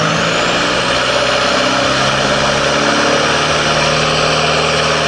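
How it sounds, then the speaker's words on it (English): Loud car engine revving hard through a CRL performance exhaust during a close-range decibel test, a steady roaring drone that holds high throughout without pause. "Obviously, when you rev it, it's over 100."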